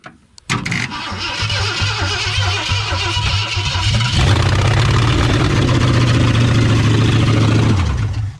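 A classic car engine cranks with a rapid starter churn for a few seconds, then catches and roars into a steady, loud run close by before cutting off, with no talk over it.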